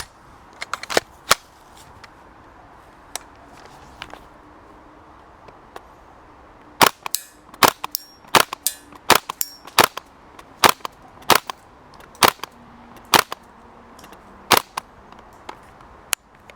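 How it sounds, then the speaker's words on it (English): A Cybergun/WE P90 gas blowback airsoft gun fires at targets 25 meters away, first sparse single semi-auto pops, then rapid bursts of sharp snapping shots with faint mechanical clatter, alone without talk. "we're gonna shoot 10 semi, 10 full auto, and see what we will hit."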